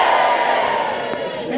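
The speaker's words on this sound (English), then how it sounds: "Give us a cheer!" A theatre audience at a comedy show cheers in a dense, loud burst of many voices, sustained briefly and fading slightly.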